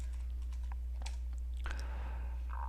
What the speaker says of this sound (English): behind this front slash I'll type administrator